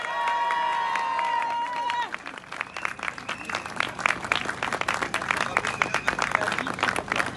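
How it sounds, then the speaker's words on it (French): Loud applause from a conference audience greeting a lawyer, starting over a sustained tonal sound for the first two seconds, then dense clapping with a few shouts throughout. "faire un tonnerre d'applaudissements à Maître David Guillaume"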